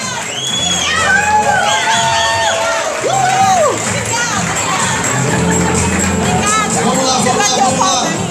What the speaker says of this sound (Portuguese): Uma salva de palmas para os próximos imperiais de Ribeirão Preto.